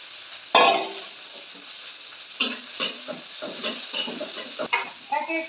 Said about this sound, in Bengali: কড়াইয়ের মধ্যে পেঁয়াজ মরিচ গুলো দিলাম।